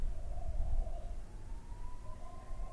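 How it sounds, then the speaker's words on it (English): School siren sounding outdoors in Fremantle, a faint steady tone carried over low rumbling background noise for a few seconds. "And the school siren?"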